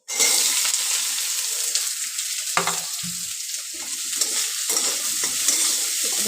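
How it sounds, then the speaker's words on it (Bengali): Onions fry in oil with panch phoron, giving a steady close hiss and crackle, broken by a few scraping stirs of a spatula in the pan. "পেঁয়াজটা একটু ভালো করে ভাজা হয়ে যায়"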